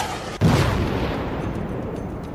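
A single loud boom, like a blast or heavy gunfire in the Jammu and Kashmir border region, strikes sharply and then trails off into a long rumbling echo.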